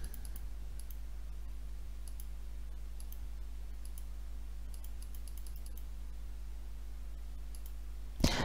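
Faint, sparse computer mouse clicks sound in a quiet room, single and in small clusters over a steady low hum, with one louder click near the end and no talking.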